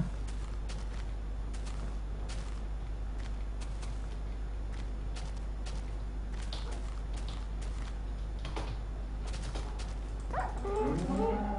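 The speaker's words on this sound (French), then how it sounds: "j'ai dû taper mon chien" Dog in the Minecraft video game whimpering and yipping after being hit, several short whines near the end over a steady low background hum.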